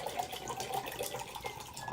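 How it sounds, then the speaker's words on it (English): Bundaberg root beer glugs and splashes from a bottle into a glass in a rough, foamy pour, a close, quiet, continuous bubbling gurgle with fizzing edges and no voices. "Sorry, it's a rough pour."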